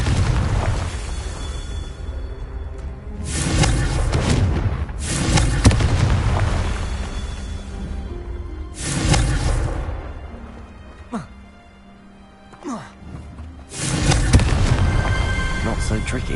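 Blasting spell explosions in Hogwarts Legacy, several loud booming bursts separated by rumbling pauses, with game sound effects and a voice casting between blasts.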